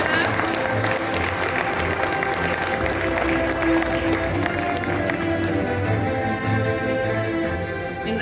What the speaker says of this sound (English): Everybody put your hands together.